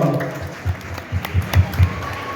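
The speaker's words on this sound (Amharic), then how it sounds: "አንድ ወጥ ያለ ጭብጨባ።" Scattered applause at an Ethiopian Nations, Nationalities and Peoples' Day celebration in Bahrain, a few distinct claps rising in uneven bursts over a low room murmur.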